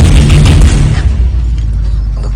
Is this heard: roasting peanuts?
no